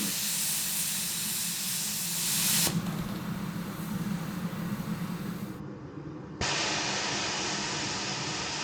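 Safety valves on a sugarcane-hauling steam locomotive release steam at about 150 psi in a loud, continuous hiss whose tone shifts abruptly a few times as the release changes.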